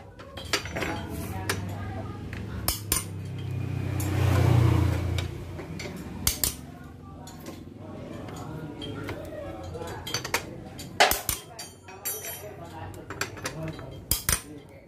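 Metal tools clink and tick against nuts being loosened on a motorcycle with a rattling, smoking engine, with sharp irregular clicks and scrapes spread through the stretch and a low background rumble.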